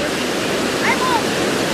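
Shallow creek water flows steadily with a broadband rush, close and continuous throughout, with a brief faint chirp partway through.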